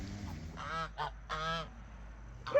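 A goose honks in several harsh, nasal bursts, two longer calls and a few short ones, close and clear against a quiet background.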